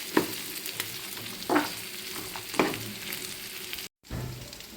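Chicken fry seasoned with chilli powder and salt sizzles steadily in a pan while a spoon scrapes and stirs it in three distinct strokes, with a brief dropout near the end before the hiss resumes.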